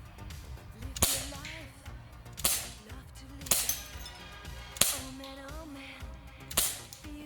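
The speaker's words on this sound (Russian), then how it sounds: "Я опять выстрелил" Shots fired at a glass bottle in a forest, five sharp reports spaced about a second apart, each snapping out cleanly above faint background sound with no talk in between.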